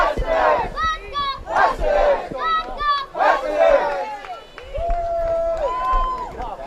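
At a summer-league baseball game, the stadium crowd chants and cheers in rhythmic rising bursts, with loud shouting spread across the stands and voices mixed in.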